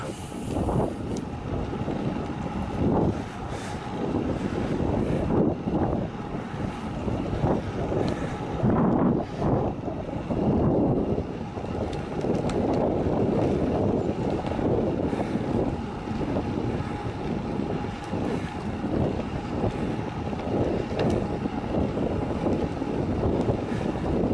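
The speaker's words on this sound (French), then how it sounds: "là ça caille avec le vent froid" Cold wind buffets the microphone during a winter bike ride on a greenway in Normandy, a steady, loud rumbling roar with gusty swells throughout, no voices.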